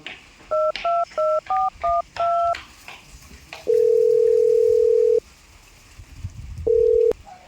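A telephone keypad beeps out a quick run of seven dialing tones, followed by a long steady tone, a pause, and a shorter tone, all close and clear with no talk.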